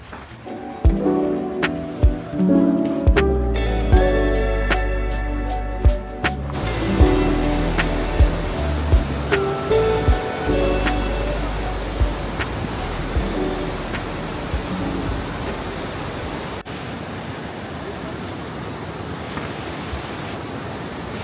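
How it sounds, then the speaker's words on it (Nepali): River water rushing along a riverbank in the Rolwaling valley, a loud continuous broadband roar with some sharper knocks and tonal sounds early on; no speech. "खोलाको किनार"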